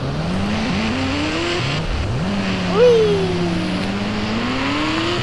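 A video game's Ghost Rider motorbike engine revs in steady rising and falling tones, climbing in pitch as it accelerates, loud and continuous with no talk over it.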